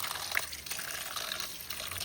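Running water pours steadily over a vegetable being washed by hand, a close, continuous gushing splash like a tap left open, with no speech.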